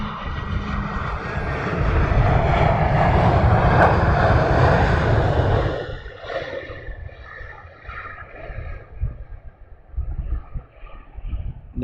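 A Phenom 100 business jet departs Luton Airport on a windy afternoon, its loud roaring engine rumble fading as it climbs away, with gusty wind buffeting the microphone afterward.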